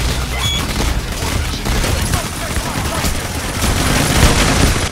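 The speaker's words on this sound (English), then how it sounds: "It's shooting through the window." A sentry gun in the game Payday: The Heist fires through a window, dense rapid bursts of gunfire rattling loud and continuous alongside other combat noise.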